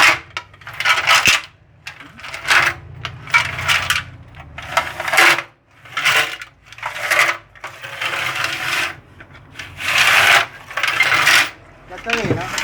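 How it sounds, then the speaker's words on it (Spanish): A metal chain rattles and scrapes inside a steel fuel tank to scour out rust, producing harsh, rhythmic gritty rasping in repeated sweeping bursts, loud and close. "La cadena frota contra la parte interna, quitando todo el óxido."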